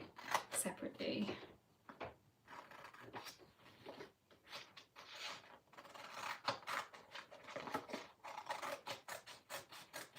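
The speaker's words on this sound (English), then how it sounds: "So I'm going to cut them up separately." Scissors snip and slice through paper keyword pieces in quick, repeated cuts with rustling paper handling, close to the microphone, while someone talks over much of it.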